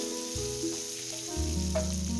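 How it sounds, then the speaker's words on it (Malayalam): Beef fries in a pan while being stirred, a continuous sizzle with a low rumbling hum under it. "ബീഫൊക്കെ നമുക്ക് നന്നായി ഇളക്കി കൊടുക്കാം"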